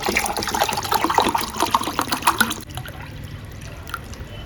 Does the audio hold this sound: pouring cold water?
yes